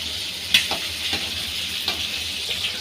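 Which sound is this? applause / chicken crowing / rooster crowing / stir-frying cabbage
stir-frying cabbage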